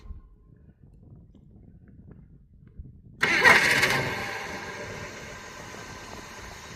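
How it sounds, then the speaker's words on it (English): A T-Bird engine, push-button started, cranks and catches at once after a stretch of near silence, then settles into a steady broadband running noise that fades slightly as it idles. "Push the button to start and then let off the starter."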